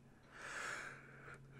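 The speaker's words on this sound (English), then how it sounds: "why am I yawning?" A man yawns once, a soft drawn-out breathy exhale that rises and fades over about a second, close and quiet.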